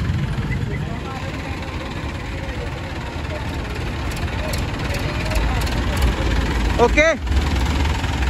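A Massey tractor engine turns over and settles into a steady, droning idle nearby, with a person speaking briefly over the running motor.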